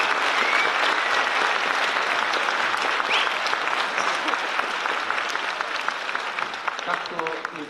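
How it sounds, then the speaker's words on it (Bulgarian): An audience at a school concert-performance gives the students' show a loud, sustained ovation. Dense clapping continues evenly throughout, with individual claps popping out near the end. "много ви моля отново за вашите бурни аплодисменти за въздействащия спектакъл изнесен от нашите ученици"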